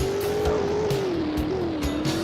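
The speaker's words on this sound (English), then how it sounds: "So take it for a 0 to 60 test because, you know, what's the point having a V8, no less, if it's not fast." A V8 luxury sedan in the Roblox game Greenville accelerates hard in a 0 to 60 test, its steady engine tone rising and dipping through gear changes, loud and continuous with no talk.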